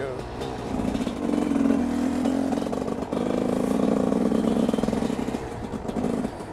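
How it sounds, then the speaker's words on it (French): Husqvarna 300 cc two-stroke motorcycle engine running steadily, loud and close, with a continuous buzzing drone that holds throughout with slight rises and dips. "on revient à la Husqvarna, donc ça a 300 cm3, donc comparé au 250, il y a 50 cm3 de plus"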